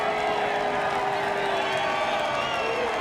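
Crowd in the grandstands at Dover Motor Speedway during a 2010 NASCAR Xfinity Series race, mostly cheering with a few boos mixed in, a steady continuous roar under a faint tonal hum.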